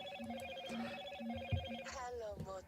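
Telephone ringing for an incoming call, a repeating electronic ring pattern in steady pulses, with a voice speaking briefly over it near the end.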